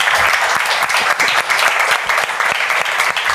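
An audience at a Spanish art event claps loudly and briskly, with many individual hand claps standing out within a dense, lively round of applause that lasts a few seconds.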